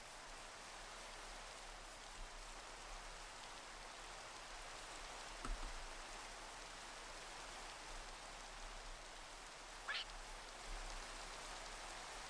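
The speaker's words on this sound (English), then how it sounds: "And it's raining." Steady rain falls in the video game Minecraft as a continuous soft hiss, fairly faint throughout, with a couple of brief louder taps.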